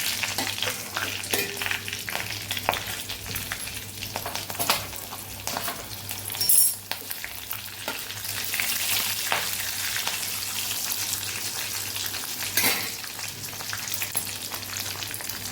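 Bay leaf, cloves, a cinnamon piece and two dried red chilies sizzle and crackle steadily in hot oil, with a few louder pops and stirring sounds, close and without talk.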